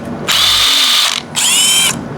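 A cordless Milwaukee M12 drill or driver runs in two loud, close, high-pitched whirring bursts of about a second each, separated by a short pause, with no talking.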